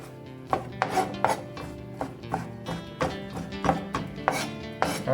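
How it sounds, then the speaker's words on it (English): A knife chops ingredients for corn bread on a board in a string of close, sharp thunks at an uneven rhythm, with short pauses between strokes and no talking. "So you just chop them up as fine as you want."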